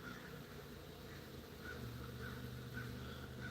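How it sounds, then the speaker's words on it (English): Crows cawing outdoors, faint and some distance away, a few scattered calls over a steady low rumble of background noise. "Hear the crow?"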